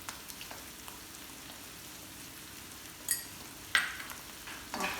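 Lobster sauce being stirred in a pan, with a steady low sizzle and a few sharp scraping clatters of the utensil against the pan.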